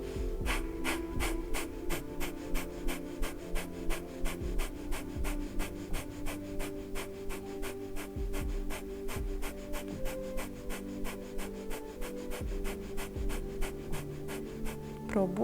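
Rapid, forceful exhalations through the nose during morning yoga practice come in a fast, regular series of sharp puffs, close to the microphone over a soft sustained musical background.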